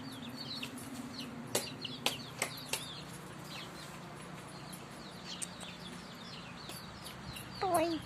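Chickens cluck softly at a distance against a quiet farmyard background, with a few sharp clicks and knocks scattered through and a brief squawk near the end.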